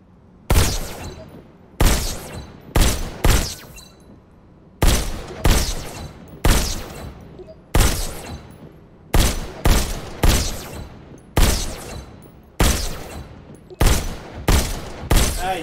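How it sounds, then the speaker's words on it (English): Pistol fire in the VR shooter Robo Recall, a long series of loud, sharp single shots, often in quick pairs or triples with short pauses between, heard alone. "Just squeeze the trigger to shoot."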